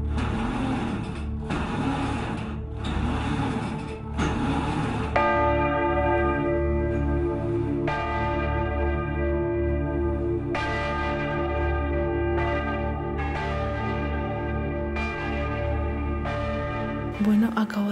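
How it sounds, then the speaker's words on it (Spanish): Rope-pulled church bell ringing in the tower of a church dating from 1312, with a few clanging strokes followed by long, resonant ringing tones that decay and strike again, loud and close, with a voice audible early on. "Yo creo que sí que puede ser que suene la campana"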